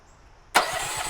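A small motor that runs a hydraulic power pack on a grapple trailer fires up under full choke, a sudden loud burst that settles into a steady running roar, close by.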